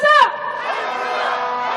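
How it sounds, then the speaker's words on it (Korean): A candlelight rally crowd calling for President Yoon Suk-yeol's impeachment shouts a chant together, with a loud, sharp cry at the start settling into a sustained roar of many voices. "더 구호 소리가 높아진 것 같습니다."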